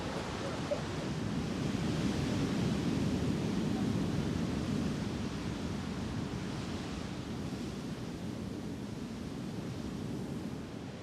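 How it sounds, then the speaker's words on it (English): Steady roar of ocean surf and wind on a beach near Santa Maria, a kite-surfing spot, a dense continuous wash of breaking waves with wind buffeting the microphone throughout and no voices. "You have the sound of the waves and the wind."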